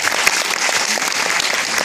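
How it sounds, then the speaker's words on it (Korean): Dense audience applause at an outdoor awards ceremony in Yongin, a steady wash of many hands clapping close and loud throughout, with no one speaking over it. "다시 한번 큰 박수 부탁드리겠습니다"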